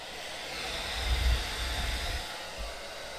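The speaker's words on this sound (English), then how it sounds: "we're going to heat this side up using a hairdryer next" A hairdryer on its low setting blows warm air onto the edge of a dbrand skin on an iPhone 6s Plus, giving a steady, fairly quiet airy hiss with a soft low rumble and no talking.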